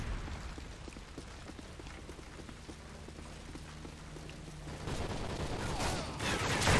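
Gunfire from the video game Call of Duty: Modern Warfare 3, with a rapid run of close, sharp shots followed by a louder burst of weapon fire and mechanical clatter near the end, no voices.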